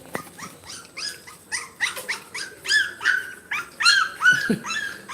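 A dog barks, whines and growls in a rapid run of short yips and yowls, close and lively, with a deeper growl near the end and no talking.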